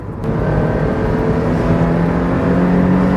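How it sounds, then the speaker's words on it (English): A 1998 Mazda MX-5 NB with a six-speed manual and cable throttle revs steadily at high pitch, a loud continuous drone that holds throughout. "Engine sounds fantastic."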